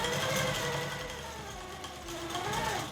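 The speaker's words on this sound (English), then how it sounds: "I'm going to do a few stitches in place to secure my stitches." A QMP 16 quilting sewing machine stitches in place while sewing quilt binding, giving a steady close-up mechanical hum and rapid needle chatter with no one talking.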